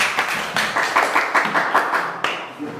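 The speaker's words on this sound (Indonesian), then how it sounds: "Ya, aplaus buat semua." An audience claps together in a steady patter of hand claps, fairly close and loud, with a faint voice underneath. The clapping tapers off near the end.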